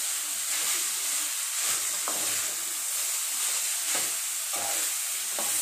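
Hakka noodles with Maggi being stirred and fried in a hot pan, a steady close sizzle with intermittent scraping stirs of the spatula, no talking.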